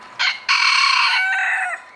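A black mottled Ancona bantam rooster crows close by and loud: a short opening note, a brief gap, then one long drawn-out crow that tapers off near the end.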